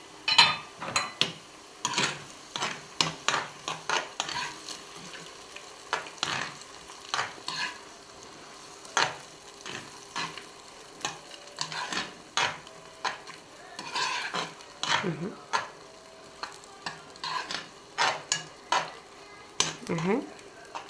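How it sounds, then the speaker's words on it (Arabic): Four eggs sprinkled with black pepper fry in a pan, a soft sizzle under dense rhythmic scraping and tapping of a utensil stirring them, clattering on and on close by. "وبعدين ننزل 4 بيضات وعليهم حبة فلفل اسمر"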